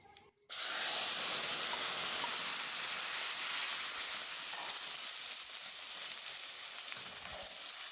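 Chickpeas (chole) hit hot ghee in a wok with a sudden loud hiss that settles into a steady, close, continuous sizzle.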